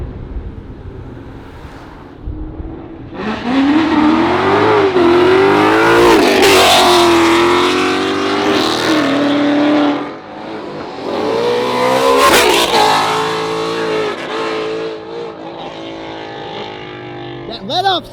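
Car engine at a cars-and-coffee meet pullout, revving hard with climbing pitch, lifting off the throttle, then revving again; loud and close, with crowd voices underneath.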